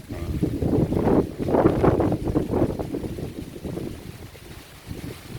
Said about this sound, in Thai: ลมพัดเย็นสบายมากเลยครับ